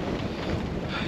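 Strong gusting wind, near 34 knots, roars across a sailboat in the Mediterranean off Sicily, a loud continuous rush buffeting the microphone with no voices.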